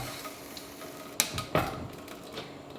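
Peppers for chile rellenos laid into a hot pan: a couple of sharp clatters as they drop in, over a low steady sizzle, with no talking.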